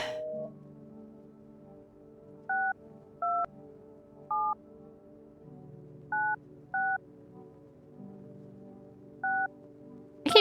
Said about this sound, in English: I keep dialing the wrong number.